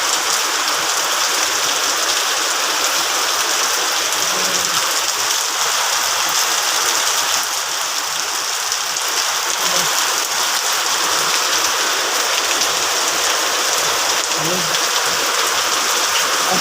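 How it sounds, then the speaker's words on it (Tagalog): Heavy typhoon rain pours steadily for the whole stretch, a loud, dense hiss with no letup. A few soft low thumps come through underneath it. "Lakas ng buhos ng ulan guys."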